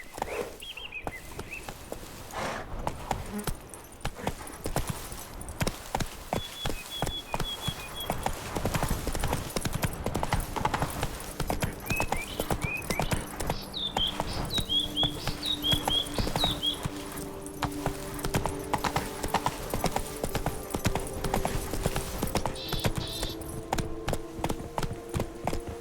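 Roach, a horse in The Witcher 3: Blood and Wine, gallops with a steady, rapid drumming of hooves that runs through the whole stretch, close and prominent, under ambient game music with occasional bird chirps and faint snorts.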